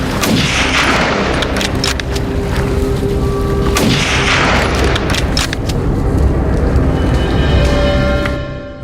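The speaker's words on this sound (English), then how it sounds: "coordinated gunfire erupted simultaneously" Dense bursts of hunting-rifle gunfire and heavy booms during a wild boar hunt in a French forest overlap continuously, loud and close, with a constant rumbling background.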